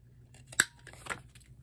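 A Becky Higgins corner rounder punch rounds the corners of a journal card, producing a couple of crisp, close, single punch snaps in a quiet room.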